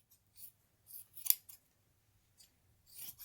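Scissors snip through leftover fleece fabric, cutting it into smaller pieces: a handful of quiet, crisp snips spaced irregularly, close by in a quiet room with no talk.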